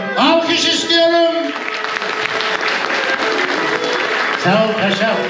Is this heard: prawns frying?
no